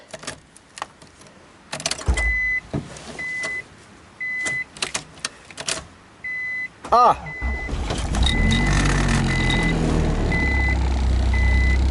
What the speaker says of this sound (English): well, it's running. It actually started right up on ancient gas.